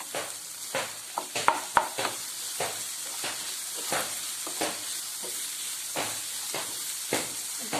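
Green chillies and tomato hit a hot pan for a vegetable kurma and sizzle steadily, with a constant frying hiss under repeated scraping stirs and a couple of sharp clinks.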